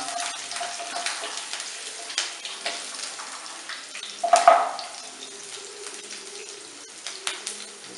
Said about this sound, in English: So we put the cashews and the chilies into the pan.